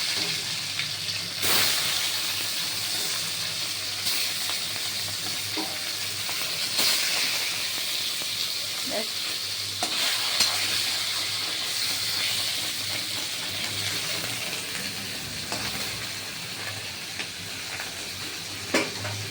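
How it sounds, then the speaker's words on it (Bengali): A second batch of parshe fish fries in a pan with a constant hissing sizzle that fills the background, broken by a few sharp crackles and pops of spattering oil, with no talking. "এবার আর চারটে আছে আবার এটা ভেজে নেব"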